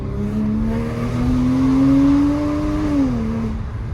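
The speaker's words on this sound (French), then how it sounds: "Oh ça freine." Inside a rally car at a charity event, the engine drones steadily close up, pitch rising gradually, then dropping sharply as it brakes hard on steel ventilated drilled discs.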